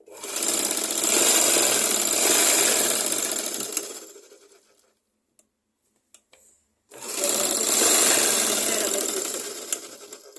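A sewing machine stitches fabric in two loud, fast, continuous bursts of several seconds each, separated by a quiet pause with a few small clicks as the fabric is adjusted.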